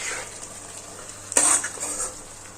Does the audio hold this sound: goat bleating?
no